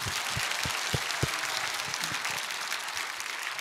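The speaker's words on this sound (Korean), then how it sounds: "다시 한번 박수 쳐봐." An audience at a political rally claps in sustained applause, dense and steady with a few louder claps standing out.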